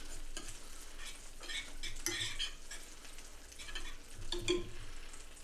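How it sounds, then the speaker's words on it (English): Spoon stirring through a thick cheese sauce in a pan, with soft scraping and clinking over a steady background sizzle; no voices. "We'll give our cheese sauce another little stir."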